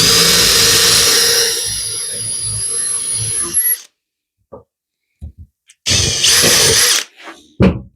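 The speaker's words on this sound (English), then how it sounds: "pre-drill." A power drill bores a pilot hole into a piece of scrap wood, a loud whining run that cuts off, then a few small knocks before a second short loud burst of drilling and a brief final whir.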